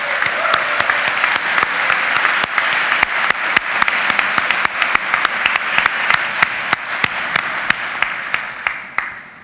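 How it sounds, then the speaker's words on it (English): Sustained applause from an audience at a university opening convocation, following a brass ensemble's performance: dense, steady clapping with sharp individual claps standing out, loud and continuous throughout. "Let's give them a round of applause."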